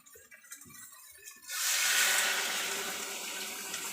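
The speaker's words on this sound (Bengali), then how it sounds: "এখন আমি এর মধ্যে জল ঢেলে দেবো" Water pours steadily into a cooking pot after some quiet handling sounds, a close, broad gush that starts abruptly and keeps running to the end.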